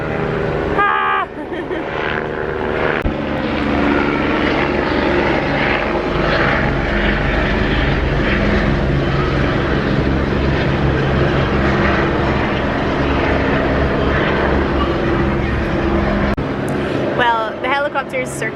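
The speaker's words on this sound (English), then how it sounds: "the helicopter's circling, so it's not going to go away" A helicopter circling overhead gives a steady, loud rotor and engine drone through the whole stretch at the Houston Zoo, with people talking underneath it.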